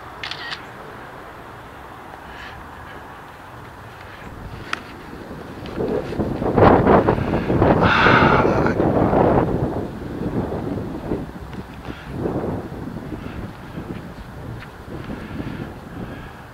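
Gusty wind buffets a microphone outdoors, steady low rumble swelling into louder bursts midway before easing, with no voices.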